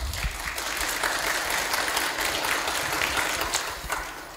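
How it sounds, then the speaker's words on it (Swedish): Audience applause in a church hall during a question session, steady dense clapping sustained throughout, fairly loud and close with no voices over it. "Får man applåden innan man har sagt någonting?"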